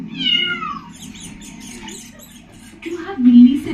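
Cartoon cat sound effect in a Hindi children's story, a bright falling meow followed by squeaky chatter, with a narrator speaking over it.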